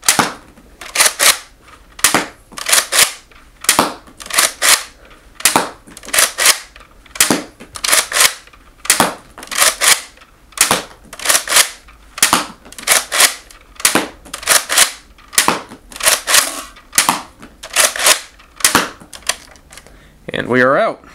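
A Nerf CrossBolt blaster fires foam darts in a long, even series of sharp snapping shots, each followed by a brief mechanical reload clack, loud and close, ending with a short rustle.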